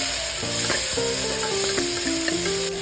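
Cut tomatoes sauté lightly in a pan for broccoli baby food, a steady close hiss of frying with a few stirring touches, while a soft melodic tune plays underneath.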